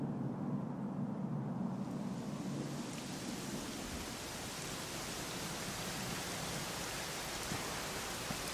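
Steady rain in Dragon Quest XI S hisses continuously, a dense wash of falling drops with a faint low rumble underneath, no voices.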